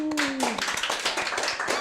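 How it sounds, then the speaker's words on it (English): A single loud hand clap rings out near the start of a speedrun of the game D.i.R.T.: Origin of the Species, followed by a busy jumble of game sounds and effects; speech is mixed in. "Thanks for the clap."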